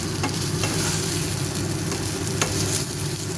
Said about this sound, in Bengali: এরপর বেগুনগুলো আমি আরেকটু নেড়ে চেড়ে তারপরে বেগুনগুলো নামাবো